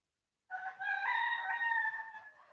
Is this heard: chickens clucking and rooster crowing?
yes